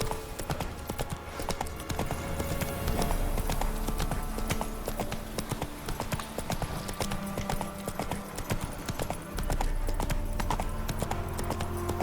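Roach, a horse in The Witcher 3, gallops in a steady, rapid clip-clop of hooves that runs throughout, with a constant rumbling game ambience underneath.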